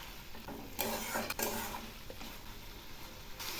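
Spices and vegetables stir-fry in a pan for a mourola fish jhal: a steady close sizzle runs throughout, with a few scraping stirs and brief clatters of a spatula against the pan.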